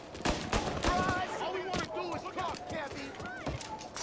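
Gunfire rattles in a Mafia Definitive Edition shootout, several sharp bursts scattered among game voices and music, with talking running over much of it.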